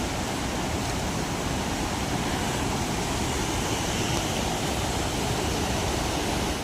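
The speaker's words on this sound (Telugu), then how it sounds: "వాటర్ సౌండ్ చూడండి ఎంత పెద్దగా వినిపిస్తుందో." Kuntala waterfalls in Telangana, a broad steady roar of rushing water heard close and loud, continuous with no pauses or voices.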